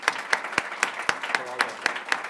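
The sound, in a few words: audience applause at ribbon cutting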